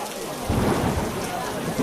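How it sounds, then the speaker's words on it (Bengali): Heavy rain pours down in a dense, continuous roar, loud and close, with a deeper rumble swelling briefly. "বৃষ্টি আবার জোরে এলো বলে"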